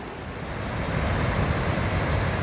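Class 1 and class 2 river rapids rush loudly and continuously near the Pacific Crest Trail around mile 850, a broad roaring wash of water that builds slightly and then holds steady.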